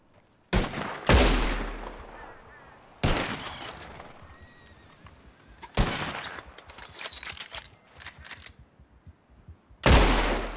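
Gunshots fired at flying birds in Red Dead Redemption II: four loud, sharp reports spaced several seconds apart, each trailing off into an outdoor echo, with faint ambient clatter between them.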